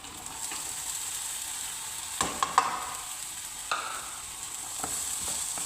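Carrots, garlic and green chillies sizzle in a hot tempering for Omani chicken mekhfus, a steady broadband hiss with a few sharp clicks of stirring, no voices.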